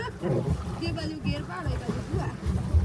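A boat turning on a lake at Mount Abu, with a steady low churning rumble of water and wind running beneath continuous close-up talking.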